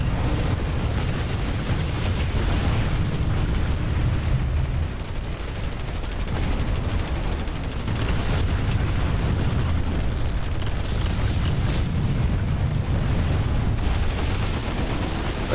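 Sniper shots and explosions in a video game, heavy booming blasts and sharp reports recurring every few seconds over a dense, loud battle rumble.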